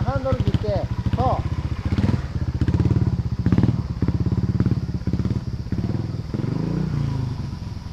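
A trials motorcycle engine chugs at low revs, throttling gently up and down close by, while a person talks over it in Japanese.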